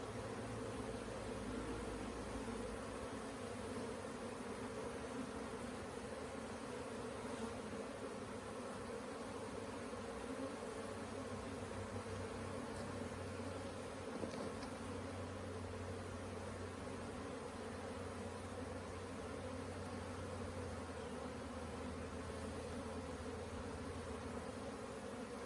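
Honeybees from a caught swarm buzz around a hive in a steady, dense drone that holds unbroken throughout, moderately faint and ambient, with no talking.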